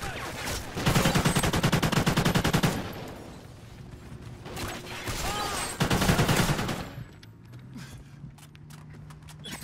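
AK rifle gunfire in a first-person shooter game rattles out in rapid automatic bursts, a long volley, a short pause, then two more sustained bursts, loud and close with little talk.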